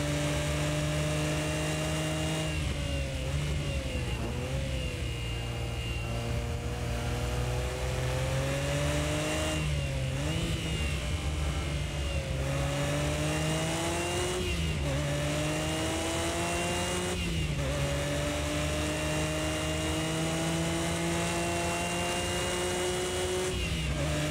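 A Nissan Skyline R32 engine in the Project CARS 2 racing game drones loudly and continuously through a lap at Indianapolis, rising in pitch through each gear, then dropping at each shift.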